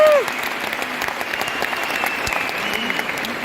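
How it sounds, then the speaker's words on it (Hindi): Applause at the Vestige award function in Delhi, a dense sustained clapping from a large crowd filling the room, following a brief tone at the start. "उन सब के लिए एक जोरदार ताली होनी चाहिए कि दुनिया भर में उसको सुनाई जाए"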